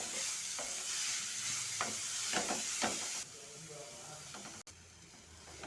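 Grated beetroot fries in ghee for beetroot halwa, a steady hiss with stirring scrapes that drops abruptly to a quieter sizzle partway through.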